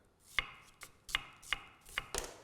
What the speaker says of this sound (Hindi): तो जी लेना है एक प्याज, उसको काट लेना है बारीक बारीक